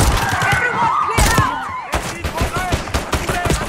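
Rapid bursts of enemy gunfire in a Call of Duty Black Ops 6 battle, loud, close sharp cracks in dense volleys with brief gaps, mixed with shouting voices.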